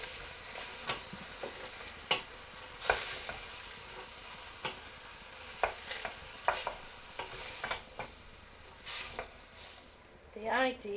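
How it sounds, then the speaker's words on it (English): Chicken and vegetables sizzle in a pan while a utensil scrapes and stirs in a run of sharp clatters, heard up close with faint background speech. "Now we're going to give this a good old stir."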